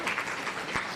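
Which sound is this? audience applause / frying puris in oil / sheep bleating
audience applause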